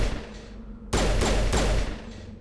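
Gunfire in the Mass Effect video game: a sudden loud burst of several close shots starting about a second in, with echoing decays over a low game ambience.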